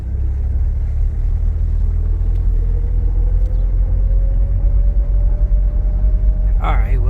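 A Pontiac Solstice GXP, just revived after three years of sitting and lacking power steering, drives along with a loud, steady engine rumble and a slowly rising tone, continuous and close.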